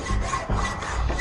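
A saw grinds through a chain in the point-and-click adventure game Saw II, rough rasping strokes repeating in an uneven back-and-forth rhythm, close and fairly loud with no voices.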